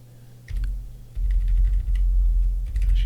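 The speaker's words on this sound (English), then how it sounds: "Just use the arrow keys to bump that over a little bit." Computer keyboard keys pressed while working in Rebelle 5 digital painting software, including arrow keys, giving a few faint clicks over a steady low hum, with no talking.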